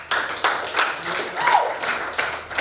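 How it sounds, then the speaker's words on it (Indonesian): Clapping from a small audience at a classroom talk on human rights, bursts of hand claps spread across a couple of seconds in a reverberant room, with a voice murmuring faintly underneath. "ya tepuk tangan dulu tuh"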